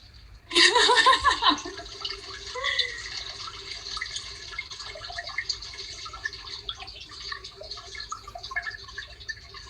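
Running tap water in a home while face masks are being mixed, a strong burst at first that settles into a steady splashing flow alongside faint background sounds.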